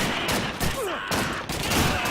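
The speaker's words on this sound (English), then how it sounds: "that's some shameful shooting on my part there" Gunfire in Call of Duty 2, a World War II shooter game, with several overlapping bursts and a continuous battle din across the whole stretch.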